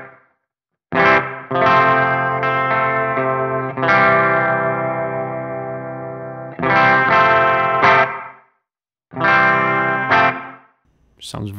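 Guitar through a Meris Mercury X reverb pedal set to 78 room with high tank modulation: sustained chords swell and ring with a wavering, shimmering tail, separated by short silences, fairly loud with no talking.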